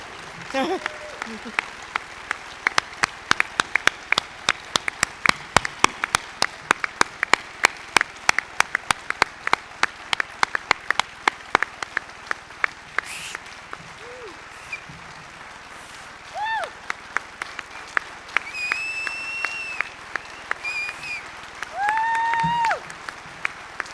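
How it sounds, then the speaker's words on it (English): Audience at a national awards luncheon applauding, a dense run of claps building and continuing for many seconds, then thinning out as a voice speaks briefly and clapping resumes near the end. "please also give a round of applause for Edward Nyman, the man behind the woman."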